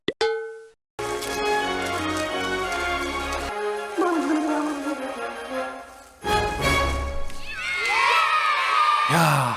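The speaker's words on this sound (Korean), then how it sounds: "아이들 함성 너무 좋다" A crowd of children shouts and cheers loudly in a school scene from Matilda, mixed with music and sound effects, swelling in bursts near the end.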